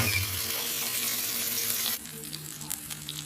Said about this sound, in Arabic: نزلتيها في الطاسة على نار هادية بشوية زبدة